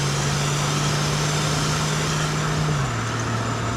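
A 1966 Ford Mustang engine drones loudly and steadily from inside the car while driving, then its pitch drops near the end as if shifting gear.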